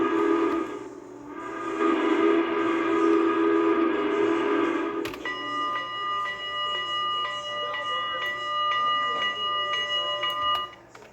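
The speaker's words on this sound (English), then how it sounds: "let's test the whistle." A custom steam locomotive whistle in the Trainz railway game: a low, rumbling train ambience gives way to a loud, sustained multi-chime whistle blast lasting about five seconds, with no talking.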